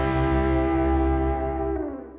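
Distorted electric guitar playing a bluesy double-stop slide riff, a loud sustained chord ringing out and then sliding down as it fades.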